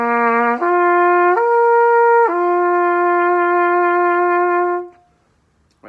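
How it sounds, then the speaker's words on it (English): A brass instrument plays a sustained lip slur, stepping through several held tones in a smooth connected line before fading out, solo and clear. "So I'm going to start with a simple slur."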